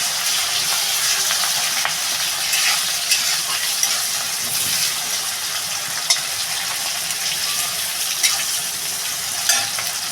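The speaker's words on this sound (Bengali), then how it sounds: "পেঁয়াজ কুচি আর রসুন কুচি এটা একসঙ্গে দিয়ে দেবো" Chopped onion and garlic sizzle steadily in hot oil in a pan for a Bengali fish-head muri ghonto, a loud continuous frying hiss with occasional light clicks of a spatula.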